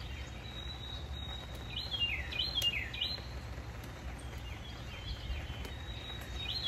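Birds chirp and sing outdoors in short, high repeated phrases, fairly faint and at a distance, over a steady low background hum and rustle.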